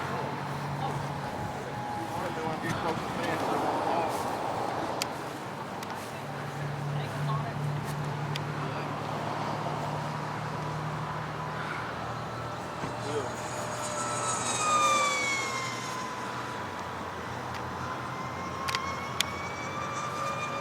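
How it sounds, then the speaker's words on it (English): A Great Planes Rifle RC model airplane makes a fast flyby, its high engine whine rising and sweeping in pitch as it passes at a distance, under steady wind and some background talk. "gonna try to back up here and get a fast flyby if I can"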